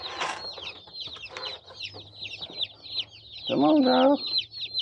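Buff Brahma baby chicks peep in a busy stream of high, thin cheeps under a voice, with a closer, louder chirping burst near the end.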